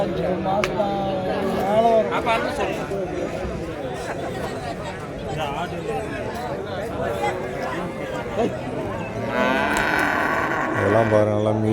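Calves and cattle moo repeatedly at a village livestock market in Matrapalli, loud and close amid a steady hubbub of crowd chatter and people talking nearby.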